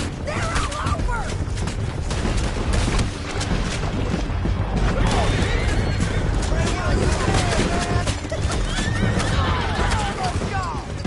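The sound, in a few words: horses galloping in video game Red Dead Redemption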